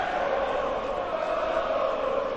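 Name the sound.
darts crowd at the Winter Gardens, Blackpool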